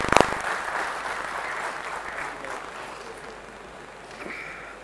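Audience applause in a hall at a tech summit in Bengaluru starts with a sharp burst and then settles into steady, moderate clapping that slowly fades.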